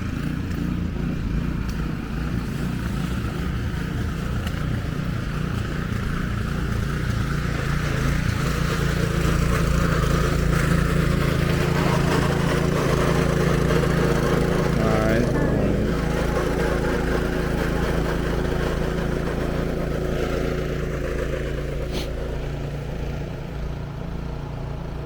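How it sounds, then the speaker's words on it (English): Snow blower running during a New York snowstorm, a steady droning engine hum that holds throughout without pause, with a voice talking over it. "this guy have his snow blower."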